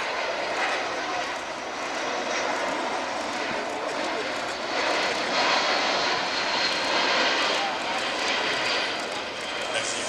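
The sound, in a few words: Boeing C-17 military transport jet engines at airshow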